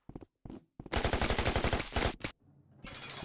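Close, loud rapid-fire machine-gun burst in Rec Room, a tight rattle of evenly spaced shots lasting about a second, framed by short isolated shots and ending in another burst.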